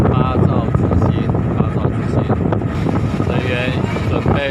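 A speedboat engine drones steadily on open water during a coast guard and civilian boat transfer of a patient needing medical care, with wind noise buffeting the microphone and people talking over the constant roar.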